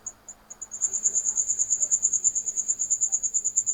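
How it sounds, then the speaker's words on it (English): Crickets chirp in a fast, steady pulsing trill, starting sparse and then settling into a continuous rhythmic chorus in a quiet night setting. "They don't have crickets in the background in New York."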